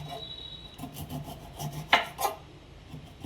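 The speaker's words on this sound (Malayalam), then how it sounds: "ഇതുപോലെ മറ്റേ ഭാഗവും ഇതേപോലെ കട്ട് ചെയ്യാം." A knife cutting a partly frozen silver pomfret fish, giving close scraping and rasping strokes with a couple of sharper crunchy cuts near the middle, with no voices.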